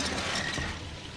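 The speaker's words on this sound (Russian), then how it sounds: "Первый рычаг открывает Ватсону дальше проход" In the Sherlock Holmes: Crimes and Punishments video game, a lever mechanism grinds and creaks as it opens a passage, a close, continuous mechanical rumble with ratcheting clicks that fades slightly at the end.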